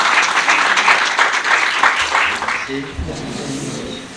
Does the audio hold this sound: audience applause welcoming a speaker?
yes